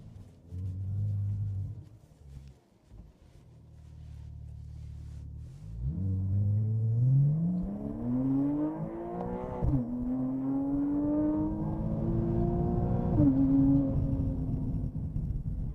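A Porsche Cayman R sports car with a dual-clutch gearbox accelerates hard through a narrow stretch, its engine note climbing steadily, dropping briefly at each gear change, then rising again, loud and close.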